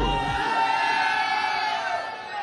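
A crowd at a live DJ event shouts and cheers loudly in a steady, dense roar that holds for the whole moment.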